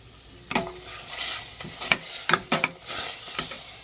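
Pork stir-fried in a hot pan for Thai green curry, sizzling steadily while a utensil scrapes and clanks against the pan in several sharp strokes, close and alone without talk.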